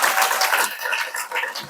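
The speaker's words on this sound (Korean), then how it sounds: "그러면 여러분들이 박수를 한번 쳐야 돼요." Classroom of high school students clapping together, a broadband burst of applause lasting under two seconds, fairly close and steady with no talk over it.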